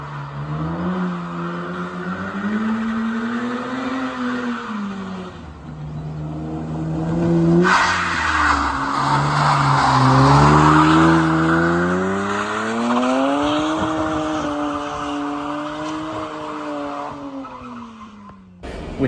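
Car drifting up a mountain road in the video game Assetto Corsa, with loud engine revs rising and falling and long tire squeals and skids across the run, no talking.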